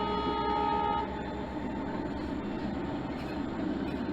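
A Penn Central coal train, hauled by an FP7, F7B and FP7 lash-up, rolls through Selkirk with a steady rumble and rattle of railcars, and a sustained horn tone sounds over the first second before the rolling noise carries on alone.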